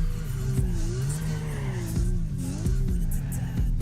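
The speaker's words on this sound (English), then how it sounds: "it kind of sounds like a V8" A deep, rumbling V8 car engine in the drifting video game Torque Drift 2 drones steadily, its pitch rising and falling as the throttle changes, with faint tire noise.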